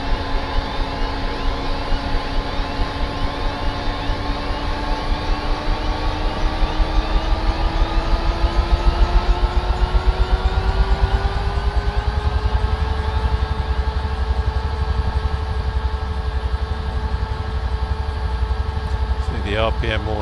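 A UH-1 helicopter turbine in Microsoft Flight Simulator 2024 winds up steadily, its whine rising in pitch and settling into a constant drone, with someone talking over it.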